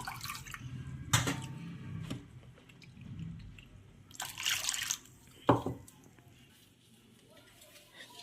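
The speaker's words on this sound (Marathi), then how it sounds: "यामध्ये आपल्याला गरजेनुसार घालायचं आहे पाणी" Water poured into a bowl of ground tamarind mixture for pani puri water, heard as a few splashy, gurgling bursts against a soft background.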